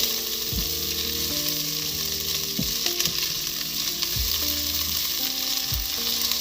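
Chicken frying in a pan over a stove switched between high and medium heat, with a steady dense sizzle throughout and a few brief scraping stirs at intervals, close and fairly loud.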